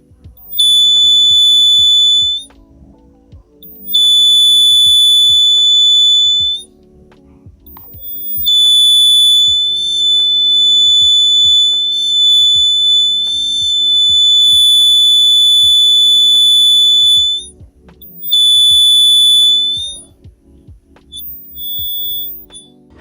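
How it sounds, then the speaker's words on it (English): An electronic buzzer in a circuit using an LED as a photodiode with a BC547 transistor gives long, shrill beeps that start and stop several times, loud and piercing, with quiet gaps between them. "Now you can hear the beep sound from the buzzer when the LED detects"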